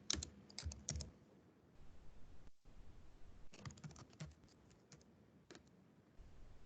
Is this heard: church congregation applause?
no